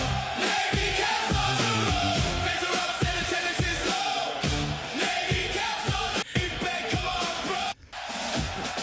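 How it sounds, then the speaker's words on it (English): A large crowd yells and chants in steady rhythmic bursts, loud and continuous, with a brief dropout near the end. "The crowd chanting."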